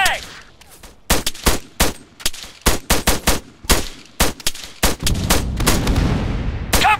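Rapid video-game gunfire, a string of loud sharp shots in quick bursts, some close together and some spaced, with rumbling game sound building underneath toward the end.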